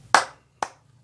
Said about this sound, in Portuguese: ele pode ser feito também com as palmas